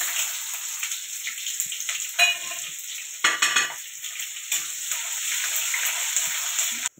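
Onion drops into hot oil with mustard seeds, cumin and curry leaves in a pan, sizzling steadily up close, with occasional sharp spatters and stirring clinks from a utensil.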